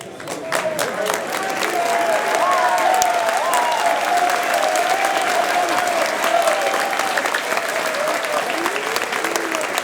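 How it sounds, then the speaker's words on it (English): Students at a career day applaud their instructors with loud, sustained clapping and some crowd noise, with voices and a few cheers rising over the dense applause for about ten seconds. "you guys beat me to it for the hand clap"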